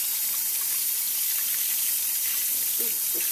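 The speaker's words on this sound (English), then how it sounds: "I'm going to disassemble this piece and run clean water through it both directions" Tap water rinses through a disassembled goldfish tank filter part, a steady hissing gush from the faucet splashing against the piece, close and continuous.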